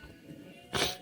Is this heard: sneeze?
yes